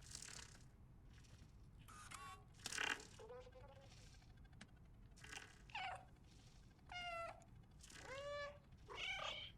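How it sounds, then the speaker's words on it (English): Cat meows from the stray cat in the video game Stray, several short separate cries spread through the clip, clear and close, with ambient game sound beneath. "Okay, meowing isn't waking him up."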